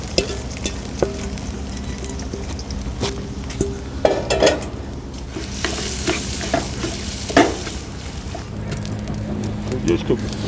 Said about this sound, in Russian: это время мы идем жарить лук.